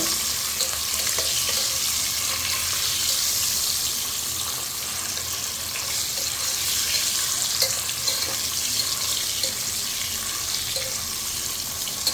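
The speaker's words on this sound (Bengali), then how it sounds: "এই যে এখন আমি ডিমগুলো ভেজে নিচ্ছি খিচুড়ি রান্না করার জন্য" Eggs frying in hot oil for khichuri give a steady, loud, close hiss of sizzling that runs unbroken throughout, with faint scraping underneath.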